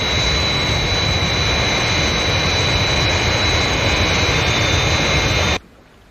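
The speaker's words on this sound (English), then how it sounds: "Scott has made a good takeoff, Father, in the Fireflash." The Fireflash airliner's jet engines at takeoff in a Thunderbirds episode, a loud, steady roar with a high whine running over it, holding constant before cutting off abruptly near the end.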